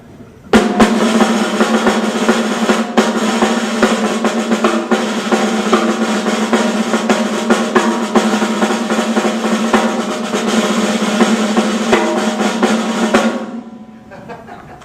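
Live snare drum solo at a drum event, rapid continuous rolls and dense sticking played loud and close for about thirteen seconds before stopping abruptly, with no talking over it.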